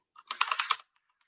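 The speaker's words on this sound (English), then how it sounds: "I have a new keyboard and I'm a little not used to using it right now. Also, it's very clacky, so sorry about that." Rapid keystrokes on a new, very clacky computer keyboard, a close, dense burst of crisp clicks lasting about half a second before falling quiet, with no voices.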